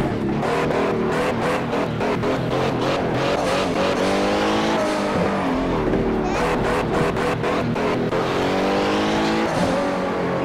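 Racing-game car engine revving and tire squeals play loudly and continuously, with repeated rising engine pitches, while a 19-month-old toddler nearby hums along imitating the car engine.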